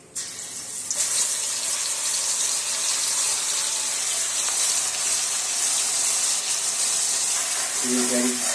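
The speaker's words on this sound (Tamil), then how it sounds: "இப்போ நல்லா வதக்கி விட்டுக்கலாம் வெங்காயம் வதங்கட்டும்" Ground small onion paste dropped into hot oil for a goat lung gravy, a loud, steady rushing hiss that starts abruptly after a quiet second and holds throughout, with a brief tonal sound at the close.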